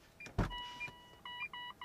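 Mitsubishi Outlander Hybrid chiming a repeated series of short, quiet electronic warning beeps as a door opens, after a brief thump.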